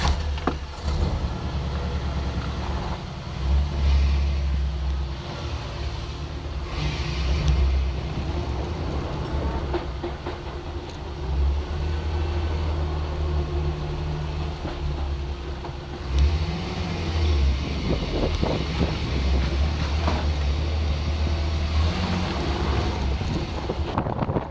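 A Land Rover Series II with a canvas top drives along, its engine drone and road rumble steady and loud throughout, with wind buffeting the microphone and no talking.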